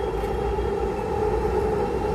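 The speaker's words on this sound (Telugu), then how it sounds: "ఇదిగో ట్రైన్ అనిపిస్తుందా?" A passing train heard from a vegetable garden: a steady, loud rumble and roar that holds throughout without a break.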